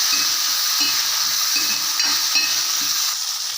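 Garlic and a small ripe tomato sautéing in a pan, giving a close, even hiss with soft rhythmic stirring scrapes repeating throughout.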